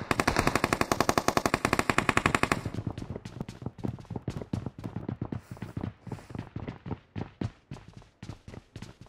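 Rapid machine-gun fire in the Conqueror Rush video game: a dense, loud, unbroken burst for about two and a half seconds, then looser rattling volleys of shots that keep going to the end.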